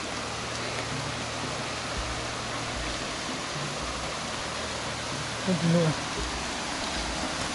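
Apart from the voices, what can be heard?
Cascata das Furnas waterfall, Vila Nova de Milfontes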